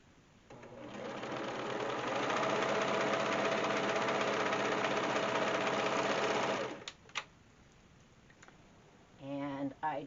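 A sewing machine runs steadily for several seconds while stitching fabric for face masks, then stops, followed by a few short clicks and a brief burst of further stitching near the end.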